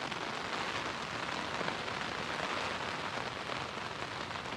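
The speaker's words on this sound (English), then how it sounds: "now it is really raining pretty good and hard" Heavy rain falls steadily at a botanical garden, a dense, even hiss of drops on surfaces with no pauses and no voices.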